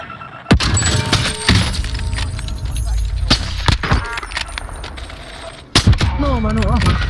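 Sharp gunshot cracks from an online shooter game in Rebirth duos mode, a few loud separate shots over steady game noise, with voices talking throughout.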